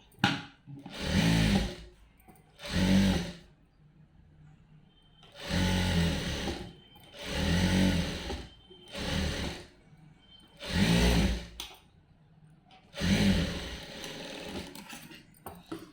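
A sewing machine stitches lining onto blouse cloth in short bursts of rapid whirring, about seven runs separated by brief pauses, close and clear with no talking.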